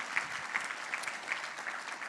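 An audience at a talk applauds warmly; dense, continuous clapping from a sizeable crowd holds steady for the short stretch with a few louder bursts.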